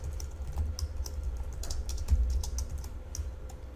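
Rapid, continuous typing on a computer keyboard fills the moment, with dense overlapping key clicks at close range over a low background rumble and no speech.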